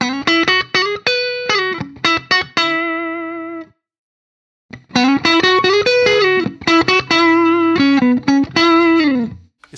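Electric guitar through an H&K Spirit Nano amp with the sag control turned up, bright sustained notes and slides played loud and up close, with a brief silent gap midway and no voices.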